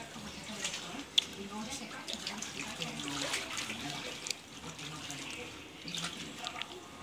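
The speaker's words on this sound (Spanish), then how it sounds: "Creo que él no se va a sacudir mientras le siguen echando agua." Water being poured over a dog in a swimming pool: a soft, faint trickling and splashing stream heard under people talking, running on and off throughout.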